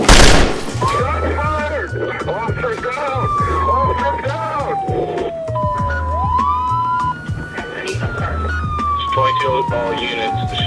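Wailing police sirens rise and fall loudly over a rapid burst of gunfire and a pulsing low rhythm, dense and continuous throughout.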